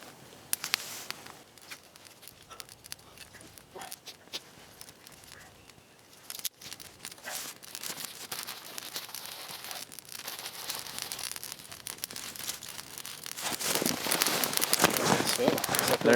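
Campfire being started on a platform of bare branches laid over about an inch of snow outdoors in winter, with crackling, crinkling and patter growing steadily louder and denser toward the end, close by.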